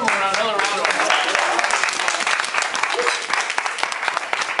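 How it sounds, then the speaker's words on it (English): An audience at a percussion workshop breaks into sustained applause, a dense crowd clapping close and steady for several seconds with a few voices mixed in. "Give them another round of applause."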